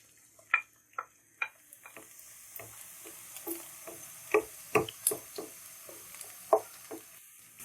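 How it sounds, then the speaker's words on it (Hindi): Onions browning in hot oil with cinnamon sticks and cloves in a home kitchen, giving a quiet, steady sizzle broken by sharp spatters and pops at irregular intervals, with no talk. "2 अदद मैंने प्याज लिए हैं जिनको मैंने ब्राउन करना है।"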